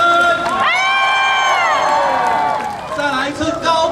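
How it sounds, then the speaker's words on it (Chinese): A concert audience screams and cheers at a live show, high shrill voices rising together, loud and close, fading briefly and then swelling again near the end. "尖叫声"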